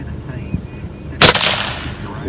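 A single sharp, loud gunshot from a hunting rifle cracks out partway through, ringing off into a fading outdoor tail, with quiet field ambience around it.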